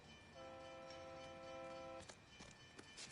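A train rolls past in the video game L.A. Noire, a sustained horn-like tone for about two seconds, then clanking and rattling railcar noise.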